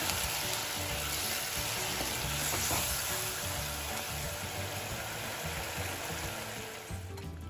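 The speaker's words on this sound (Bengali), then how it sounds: "এবার আমি মশলাটাকে একটুখানি ফুটিয়ে দিলাম।" Spice paste with about a cup of hot water simmers for a Bengali tel koi fish curry, giving a loud, continuous bubbling sizzle that eases off near the end.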